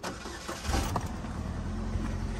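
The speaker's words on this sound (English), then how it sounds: "It's cranked up decent." A Mercedes-Benz C300 engine cranks briefly and catches, settling into a steady idle hum, heard close and fairly quiet with no talk.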